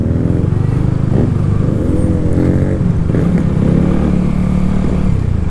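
The engine and exhaust of a FEKON 3GP motorcycle drone loud and steady while it is ridden, with a deep, rough rumble and slight shifts in pitch throughout.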